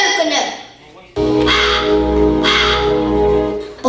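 A crow gives harsh, close caws in two loud, drawn-out bursts that carry over a low steady hum, with a voice present in the background.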